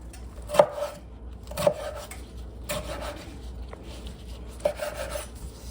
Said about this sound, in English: I'm getting ready to do my other vegetable, my tomato. Just cut it down. You want to just cut it in squares.